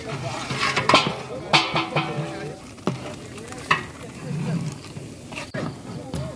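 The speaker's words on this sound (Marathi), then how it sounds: "हा सगळा मिश्रण व्यवस्थित शिजल्यानंतर मग तेलात पुन्हा एकदा मसाले टाकले गेले." Spices and marinated mutton sizzle in oil in a Malvani home kitchen, a moderate frying hiss broken by scraping stir strokes and clinks, with speech over part of it.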